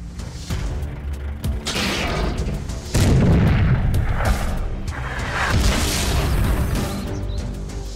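Heavy tank cannon blasts in a cartoon boom in quick succession, with sharp impacts and rumbling explosions layered over a dense, chaotic battle din, with Russian voices.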